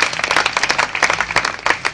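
Audience applause at a Hindi comic poetry gathering, a loud burst of dense hand clapping from a crowd that carries on steadily for the whole moment.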